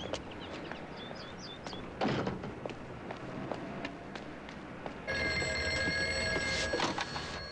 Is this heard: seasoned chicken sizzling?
no